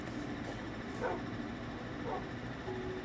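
Dogs in the video game Minecraft yip and bark a few times, brief digital barks that sit under a steady background wash of game ambience.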